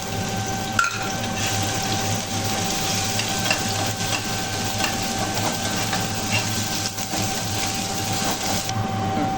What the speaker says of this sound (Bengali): শুকনো লঙ্কা দুটো দিলাম, নাড়া দিয়ে দিই।